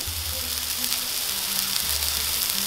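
Lamb burgers sizzle steadily on a grill over a medium to medium-high fire, a continuous close crackle with a low hum running underneath.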